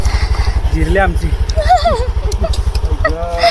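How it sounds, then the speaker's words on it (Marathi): A motorcycle engine thumps in a steady low putter close by as it arrives at a villa on a group trip to Murbad, with several people talking loudly over it throughout. "बाईक वरून येत आहे"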